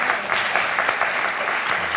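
A studio audience breaks into applause on a French talk show, dense and even clapping from a crowd that holds steady for about two seconds.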